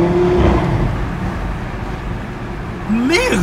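A car engine rumbles steadily with broadband road noise, then revs up near the end; a voice speaks briefly over it.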